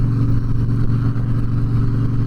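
Deep, continuous rumble of a Twin Cam Harley-Davidson Breakout motorcycle riding steadily, a loud low throbbing engine note with wind noise, close and without talk.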